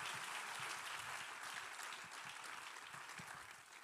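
Congregation at a church service clapping their hands in praise, a dense, steady wash of applause that fades slightly toward the end, with no voices over it.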